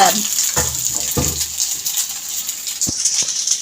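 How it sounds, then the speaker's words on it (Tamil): Water runs steadily from a kitchen tap into a bottle, a continuous hiss and splash heard close and loud, with occasional clunks of the bottle shifting under the stream. "அவனோட பாட்டில் தண்ணி பிடிச்சிட்ருக்கான்."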